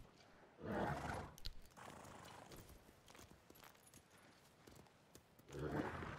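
A horse in the video game Ghost of Tsushima snorts and whinnies in bursts, with hooves and game ambience in between, fairly quiet throughout and with no speech over it.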